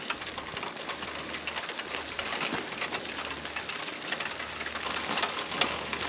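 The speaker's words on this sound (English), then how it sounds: "Oh, heavy rain." Steady heavy rain hisses and patters close by on a remote Alaskan island, dense and continuous with no voices.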